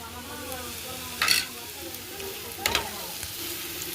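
Onions and green chillies stir-fried in a pan, a steady close sizzle with two distinct scraping spatula strokes, no talking.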